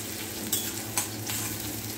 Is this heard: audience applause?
no